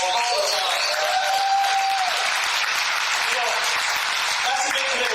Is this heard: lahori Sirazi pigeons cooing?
no